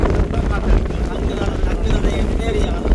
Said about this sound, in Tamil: காற்று நல்லா இருக்கேண்ணே